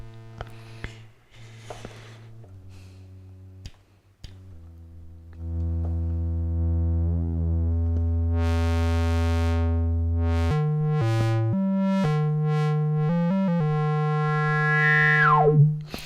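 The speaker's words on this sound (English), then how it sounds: "So this is the ladder filter." Arturia MatrixBrute analog synthesizer notes run through its ladder filter: a few short plucks, then long loud sustained bass tones with sweeping bright overtones, separate stepped notes, and a final pitch dive at the end.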